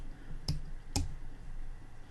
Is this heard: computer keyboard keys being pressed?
yes